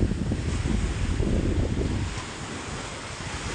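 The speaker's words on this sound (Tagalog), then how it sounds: "grabe, lakas ng hangin, tas ang lalaki ng mga alon" Strong wind roars over large crashing sea waves at a Philippine shoreline where a big boat waits to be launched, a steady loud broadband rush that eases slightly toward the end, with no voices.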